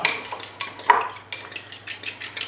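Spoon clinking and scraping in a bowl while a cream and pepper mixture for leeks is stirred, a string of light close metallic taps and scrapes without speech.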